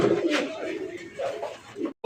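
Pigeons at a fancy-pigeon farm coo in low, rolling bursts that recur through the clip, fairly close and steady with a faint voice briefly underneath.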